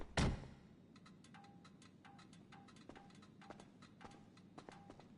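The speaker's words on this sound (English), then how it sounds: "I love that it makes that sound that cars make when you first shut them off" In a car video game, a muscle car's cooling engine ticks after shut-off: a thud, then a run of light, irregular metallic clicks, faint and close.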